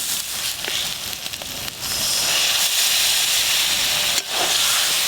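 Water poured into a hot pan of spiced, fried hilsa fish heads hisses and sizzles loudly, swelling into a steady steamy roar with a brief sharper crackle near the end.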